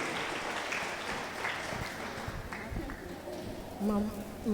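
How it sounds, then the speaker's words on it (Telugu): A church congregation claps loudly together during a testimony service, a dense, steady wash of applause lasting several seconds with voices mixed in. "గట్టిగా చప్పట్లు కొట్టి దేవుని మహిమ పరుద్దాం"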